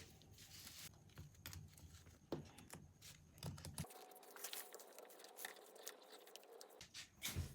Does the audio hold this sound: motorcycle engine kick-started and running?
no